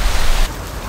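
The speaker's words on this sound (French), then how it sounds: "aujourd'hui il pleut très très fort" Heavy rain pouring down in Japan, a dense steady hiss that fills the whole second, close and loud with no voices over it.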